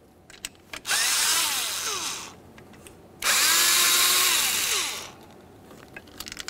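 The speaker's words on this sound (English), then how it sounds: "make sure that you remove your 2 mounting bolts, the one from the regulator and from the motor" Cordless power drill backing out the window regulator and motor mounting bolts inside a 1994-1999 Honda Accord front door, two loud whirring bursts with pitch sweeps and brief clicks between, no talking.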